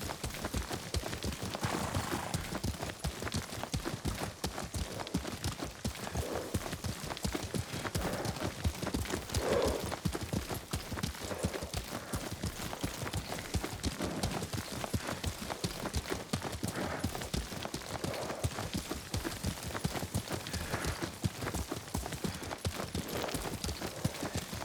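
Horse hooves clip-clop steadily while riding in Ghost of Tsushima, a continuous close galloping rhythm with occasional faint voices over it.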